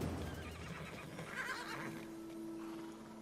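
A horse in the video game Tiny Tina's Wonderlands gives a single drawn-out whinny, fairly faint, followed by a brief low tone.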